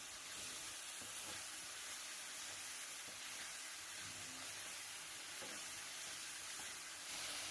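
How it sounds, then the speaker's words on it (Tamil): Ground meal maker (soy chunks) sautés in oil in a pan with turmeric and salt, a faint, steady sizzling hiss that continues without pause and without speech. "அதையும் இதில் சேர்த்துட்டு நல்லா ஆயிலில் வதக்கிக்கலாம்."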